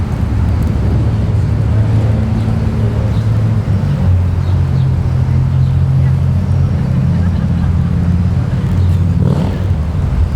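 Vintage cars, cleaned and polished, roll along in a Veterans Day parade, their engines a steady low rumble close by that lasts throughout.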